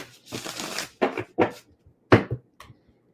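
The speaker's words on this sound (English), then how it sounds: "We get a good shuffle for Cancer." A handful of short papery riffles and slaps, close and fairly soft, like cards being shuffled and squared in separate bursts with quiet gaps.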